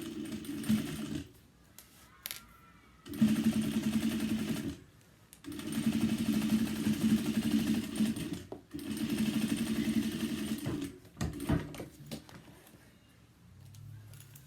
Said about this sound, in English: I usually top stitch on a 4 when I'm using cotton fabrics